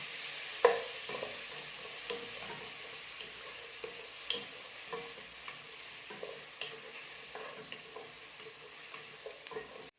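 Onions being stirred in a frying pan, a steady sizzle beneath repeated light scrapes and taps of the utensil against the pan, close up, with no talking.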